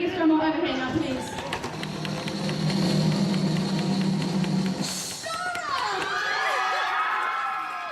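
A large crowd cheers and shouts loudly at the crowning of Miss Mermaid England 2017, a dense roar with excited voices and high-pitched squeals rising toward the end.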